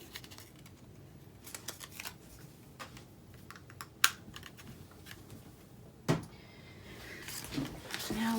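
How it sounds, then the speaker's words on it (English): Paper craft pieces for an Easter treat box are cranked through a die cutting machine, giving a run of close, sharp clicks and clacks with a few louder knocks and a rising mechanical rumble at the end. "Run that through my die cutting machine."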